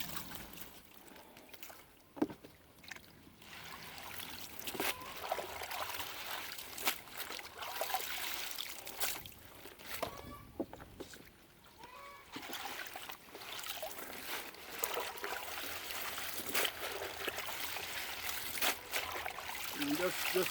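Water swishes and trickles steadily as a hand drags through a tub of callaloo leaves being washed by hand, with a person talking over the sound throughout.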